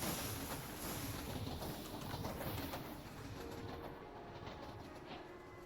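A train in the Minecraft Create: Astral modpack rumbles past in a steady, dense roar with rhythmic clacking, slowly easing off toward the end, with no talking.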